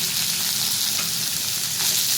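Carrots fry in a home kadhai for Schezwan and Hakka noodles alongside capsicum, cabbage and onion, giving a loud, dense, continuous sizzle with faint stirring and no speech.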